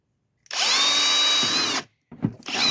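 Power drill boring small 1/8-inch air holes through a plastic compost tote for a worm bin, a loud steady whine for over a second, a short pause, a brief bump, then the drill starting again.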